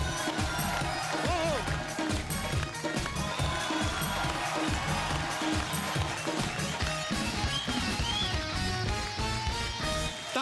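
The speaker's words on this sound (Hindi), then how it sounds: "तालियां बजती रहे।" A studio audience on the Kapil Sharma comedy show claps and cheers without pause to welcome comic poet Arun Jaimini, a dense, loud wash of applause blended with music.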